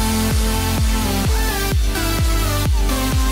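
Original song drop playing back, loudly mastered and dense, with a heavy thumping kick hitting about twice a second under bright, saturated synth chords that fill the whole range without pause.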